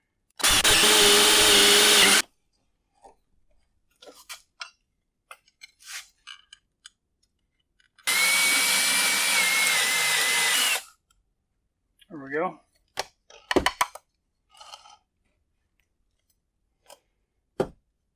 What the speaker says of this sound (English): I'm using a 5/8 inch paddle bit.